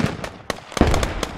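Grenade blasts in the Squad military shooter, several sharp, loud bursts and pops in quick irregular succession, close by and crackling.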